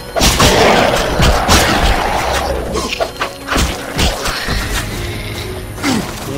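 An explosion in The Witcher lands amid loud combat, with a string of heavy crashing booms and sharp impacts over several seconds, close and forceful.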